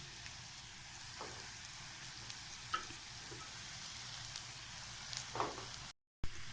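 Boiled potatoes go into frying masala in a pan, a quiet steady sizzle with occasional soft stirring knocks and a brief dropout near the end.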